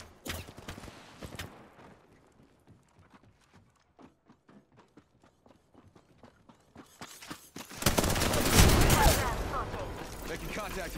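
Gunfire in the battle royale video game Apex Legends, with a run of quiet sharp shots and footstep-like taps giving way to a loud, dense burst of firing and explosions near the end.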